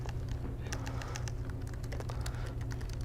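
Someone types on a computer keyboard in a Linux terminal, with irregular clicky keystrokes in quick clusters over a steady low room hum.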